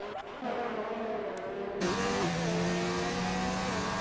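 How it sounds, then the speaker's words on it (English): A race car on a circuit approaching the braking zone for turn 12, its engine a loud sustained drone that climbs in pitch, then jumps to a brighter, louder howl and keeps revving steadily close by. "So here we are jumping on with a Fast 6 driver as he shoots down and gets ready to hit the braking zone into turn 12"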